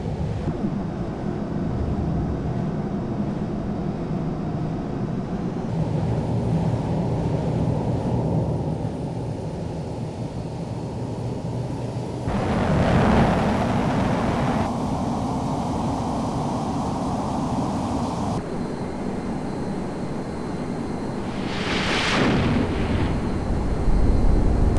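Boeing F/A-18 Hornet jet on an aircraft carrier deck in Flight Simulator X, engines roaring at full military power through a steady broadband rush, swelling louder at the catapult launch and rising again near the end.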